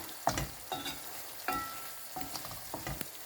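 Egg frying in a pan with sardines, onion, tomato and garlic, sizzling softly while a spatula stirs and scrapes in several distinct strokes.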